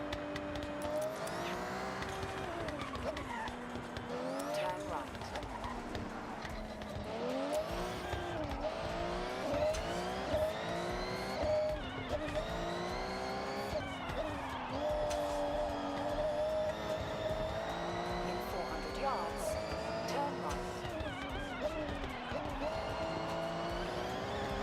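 A Toyota Supra driven in a video game, its engine tone rising and falling steadily through gear changes with occasional tire squeal, loud and continuous over game music.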